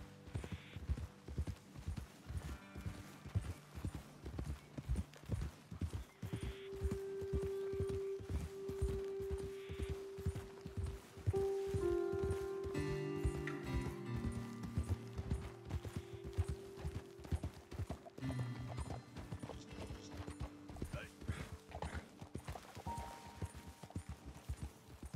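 Horses walk in the Red Dead Redemption 2 video game, their hooves clip-clopping in a steady, continuous rhythm, close and clear under a soft musical score.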